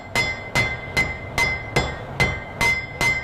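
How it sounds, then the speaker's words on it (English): Eight sharp, ringing hammer blows on steel over a hardy tool (hot cut) land at an even, brisk rhythm, each strike bright and metallic with a short ring after it. "And I'll just hammer down"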